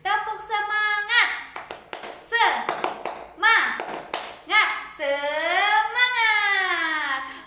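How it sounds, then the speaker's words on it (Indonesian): Schoolchildren perform the Indonesian 'tepuk semangat' spirit clap, with bursts of rhythmic hand claps woven between loud chanted and sung voices, close and energetic throughout. "Mari kita tepuk semangat sekali lagi."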